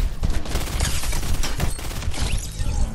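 Rapid bursts of automatic gunfire from a squad shooter video game, dense, loud and close, with overlapping shots running continuously and no voices.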